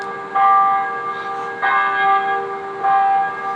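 Church bells in Warsaw ring out clearly, with three resonant strikes spaced about a second apart, each tone lingering and overlapping into the next.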